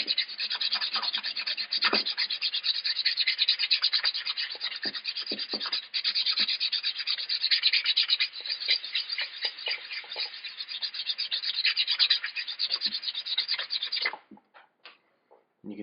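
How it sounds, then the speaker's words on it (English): Heavy rust is scoured off an axe head with a rapid, continuous scratching and rasping that stays loud and close for about fourteen seconds, then stops abruptly and gives way to a few brief scrapes. "all we're doing is scouring that up so that all the heavy rust particles are scraped away"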